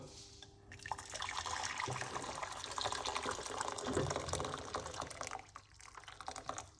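Hot water pours steadily into a container, a continuous splashing trickle that runs for several seconds before tapering off, fairly quiet and close.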